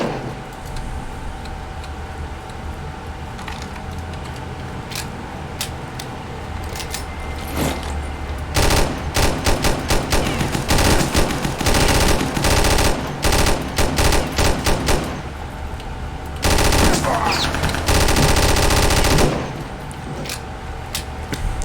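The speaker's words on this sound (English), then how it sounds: "If I could marry anything, it would be the MG42 in RealRTCW" An MG42 machine gun in the shooter game RealRTCW fires repeated loud bursts, some long and some short, with brief pauses between them over constant background game noise.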